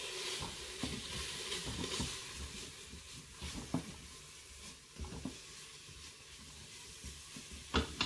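Spices being stirred in a Cookeo multicooker for Tunisian chorba, a soft steady sizzle with intermittent scraping strokes and a couple of louder knocks, faint and close.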